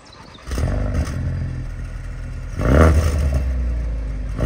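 Ford Focus RS MK3 with a 350 hp all-wheel-drive engine pulling away, a deep rumble that swells as the car accelerates, loud and close with no talking.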